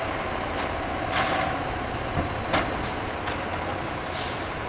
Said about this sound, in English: Raw animal fats arrive in large industrial trucks.